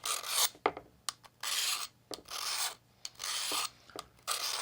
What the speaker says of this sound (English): Do a little bit of sharpening on the axe.